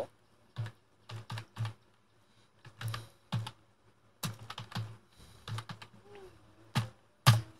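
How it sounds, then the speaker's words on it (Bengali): Clusters of quick keyboard clicks on a computer keyboard, with short pauses between bursts and a firmer final key press, quiet and close with no voices. "এন্টার দেই"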